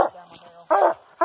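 A coonhound barks at a treed raccoon, giving two loud, close, evenly spaced barks with fainter barking between them.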